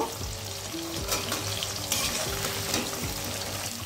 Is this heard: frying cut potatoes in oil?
yes